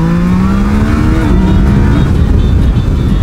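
A Yamaha Niken three-wheeled motorcycle engine pulls hard while riding, a loud close rising drone with climbing pitch under a steady rush of wind noise.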